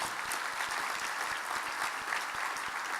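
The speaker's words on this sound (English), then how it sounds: "Give her another round of applause." An audience at an honoring event for Michael L. Thurmond gives a round of applause, a dense, continuous clatter of many hands held at an even level from start to finish, with no voices over it.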